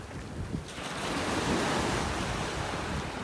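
Surf rolls onto a beach in North Naples, Florida, a broad roaring wash that swells louder midway, with gusty wind buffeting the microphone and no voices.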